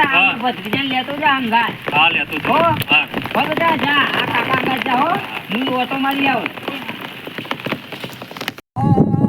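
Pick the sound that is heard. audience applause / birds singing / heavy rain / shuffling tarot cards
heavy rain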